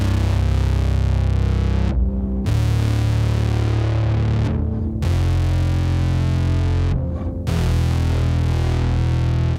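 An electric guitar plays sustained chords through an Exploder pedal with Bat Sim, producing a thick, saturated, tape-like distortion in loud bursts separated by brief silences.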